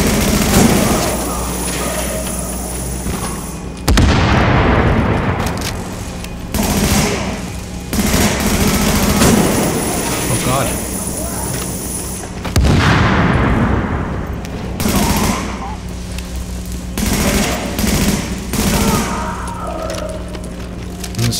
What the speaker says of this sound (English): Seem like a good place to be having a firefight